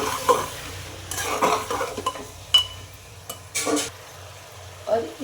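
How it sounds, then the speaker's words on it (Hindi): Onion-tomato masala for chole frying in a pan with spices and salt, stirred in a few separate bursts of scraping and soft sizzling, with light clinks of utensil on pan, close and fairly loud. "2 मिनट करीब इसे साथ में भूनना है हमें मसाले के साथ"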